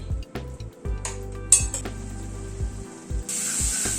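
Spice paste with tomato being stirred and fried in a pan over a medium gas flame, with repeated scraping and clinking of a spoon against the metal pan and a soft sizzle rising near the end, no talk.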